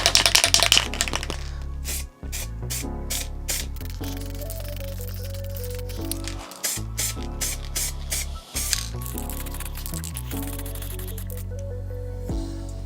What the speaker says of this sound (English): The first thing I'm going to do anyway is apply a light primer